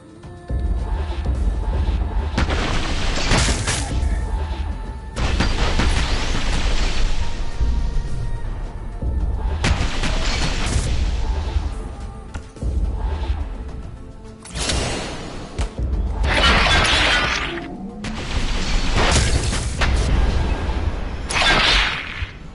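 Gunfire and explosions in the action game Kill Wick Reloaded: bursts of loud, crackling shots and heavy blasts come in clusters separated by brief lulls, with rumbling low noise underneath.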